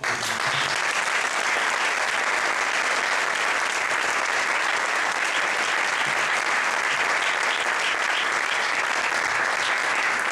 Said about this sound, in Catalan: Demano un aplaudiment.